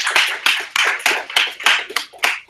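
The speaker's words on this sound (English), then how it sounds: "Let's give Jake a round of applause." A small audience at a Seoul real estate investor meetup gives a brief round of applause for Jake, about eight crisp, evenly spaced claps close to the microphone.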